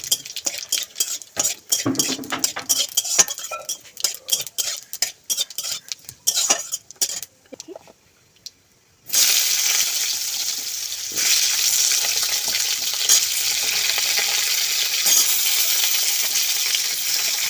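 Dry chillies, bay leaf and five-spice hit hot white oil with clinks and scrapes of a spoon stirring in a pan, then a loud steady sizzle settles in for several seconds.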